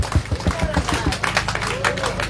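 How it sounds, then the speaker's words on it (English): An audience at a ceremony commissioning refurbished water and sewer facilities in Liberia claps, with distinct individual hand claps over a crowd's general clapping and murmur, fairly close and steady for a couple of seconds. "let's give a hand of applause for that."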